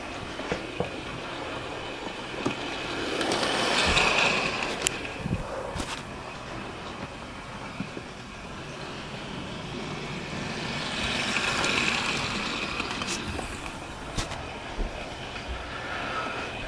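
A Hornby BR Class 4F model steam locomotive runs steadily along model railway track, a continuous rolling clatter with faint clicking over rail joints that swells and fades twice as it passes close by, with no talking.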